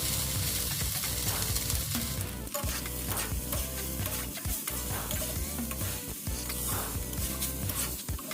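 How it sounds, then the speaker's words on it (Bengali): Cooked rice and vegetables being stirred and fried together in a pan for fried rice, a steady loud sizzle with constant scraping and clattering of the spatula throughout. "তারপর খুব আস্তে আস্তে সবজি আর ভাত ভালো করে মিশিয়ে নিচ্ছি।"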